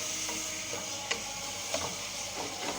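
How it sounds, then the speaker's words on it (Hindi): Garlic and ginger paste fries in a pan for kaleji masala, a steady soft sizzle with occasional scraping taps of a stirring spoon, fairly close and alone. "अब हम इसमें डालेंगे लहसुन अदरक के 2 चमचे। इसको अच्छी तरीके से भून लेंगे"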